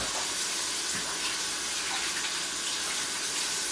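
Tap water runs steadily as chopped onion is washed under it, a continuous close hiss and splash with no break.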